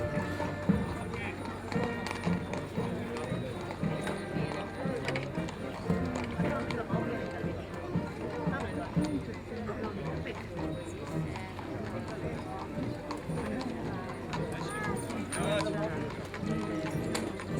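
Horses' hooves clip-clop steadily at a fire brigade parade in Vnanje Gorice, Slovenia, carrying on under continuous commentary and crowd noise, with the rhythm blurred by the surrounding sound.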